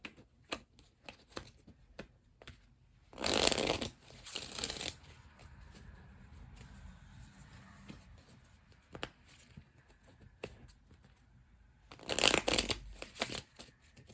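Tarot cards are riffled and shuffled twice in quick crisp bursts, close up, with soft handling sounds and quiet rustling in between.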